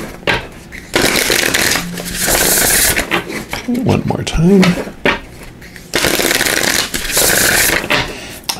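Bursts of papery riffling from a deck of tarot cards being shuffled, repeated several times with short pauses, and a brief spoken phrase between them.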